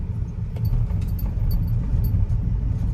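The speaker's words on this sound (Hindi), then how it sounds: "अभी देखो प्लास्टिक पैनल में से आवाज आ रही है, सिर्फ ये ग्लव बॉक्स है इसमें से आ रही है" A car's plastic glove box panel rattles as the vehicle drives over tiles, a faint, irregular clatter of ticks and knocks sitting over a steady low road and engine rumble.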